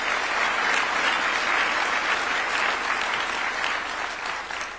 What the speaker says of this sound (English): A round of applause for the main speaker of this meeting.